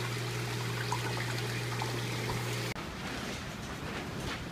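Water flows between aquaponics sump tanks in a commercial-scale deep water culture and media bed system, a steady trickling stream with a low hum that cuts off abruptly partway through, leaving a quieter wash.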